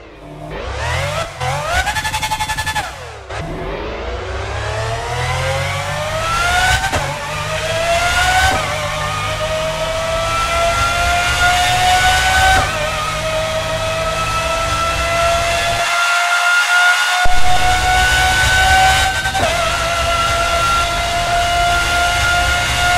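A high-revving synthetic V12 car engine from a Game Maker Studio 2 racing game climbs steadily in pitch, its rising whine sustained and loud for over twenty seconds with a brief cut near the end.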